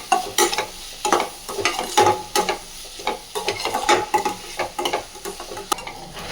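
Onions, tomatoes and vegetables sauté in a pan: a loud, close sizzle runs under rhythmic scraping and stirring strokes that repeat about every half second, with no voices.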